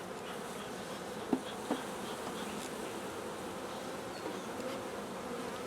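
A steady, dense buzz of many honeybees swarming close by, with a couple of brief knocks partway through and no talking.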